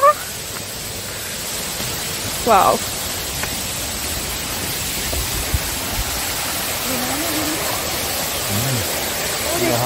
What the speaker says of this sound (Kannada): ಅಲೆಕ್ಸಾಂಡ್ರಾ ವಾಟರ್ ಫಾಲ್ಸ್ ಹತ್ರ ಹೋಗ್ತಾ ಇದೀವಿ ಇವಾಗ. ಸೌಂಡ್ ಕೇಳಿಸ್ತಿದ್ಯಾ?